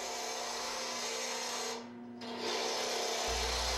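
A woodturning lathe spins a workpiece for a basic box while a gouge makes continuous pivoting cuts, giving a loud, steady close-up scraping whir with a brief dip in the middle, no voices.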